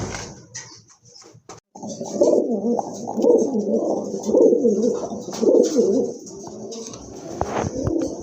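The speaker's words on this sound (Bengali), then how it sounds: "খুবই সুন্দর দেখার মতো এক জোড়া কবুতর" A pair of large show pigeons coo repeatedly in close, rhythmic bursts, the soft throaty calls rising and falling over several seconds after a brief quiet start.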